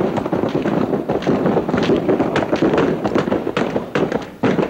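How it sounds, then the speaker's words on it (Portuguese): Rapid bursts of sharp gunshots from many directions during a prison riot in Jacareí, dense and overlapping, loud and echoing like gunfire across a city. "Tiros de todas as partes."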